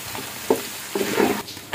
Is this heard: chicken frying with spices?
yes